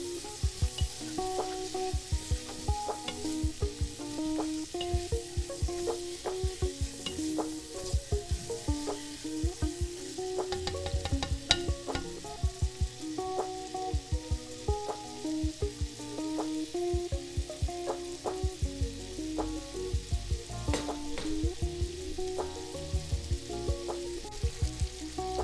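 Hamburger meat seasoned with salt, pepper and onion powder sizzles and fries in a big pot, steady close crackle broken by repeated scraping stir strokes throughout, with no talking.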